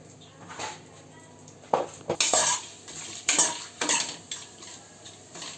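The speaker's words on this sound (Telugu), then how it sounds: "జాపత్రి, జాజికాయ, బిర్యానీ ఆకులు ముందుగా ఆయిల్లో బాగా వేయించుకోవాలి." Whole spices such as mace, nutmeg and bay leaves frying in oil for chicken biryani, with a soft sizzle beneath several sharp metal spoon scrapes and clinks against the pan.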